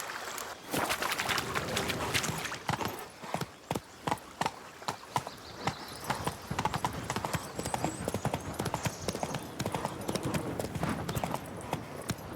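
Rapid, steady clip-clop of the horse Roach galloping in The Witcher 3: Hearts of Stone, the hoofbeats running close and continuous for several seconds.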